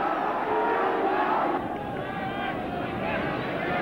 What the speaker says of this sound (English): a big round of applause for young Bater